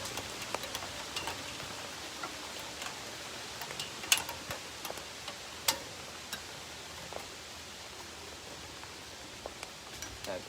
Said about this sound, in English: It's raining. It's falling down hard